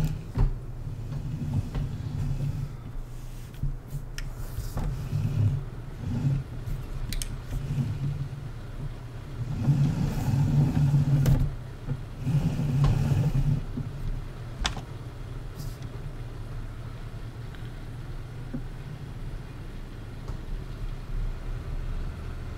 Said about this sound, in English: Big giant potato harvester.